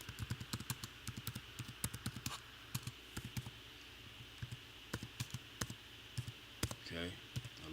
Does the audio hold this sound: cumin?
no